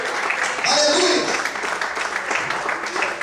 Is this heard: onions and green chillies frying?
no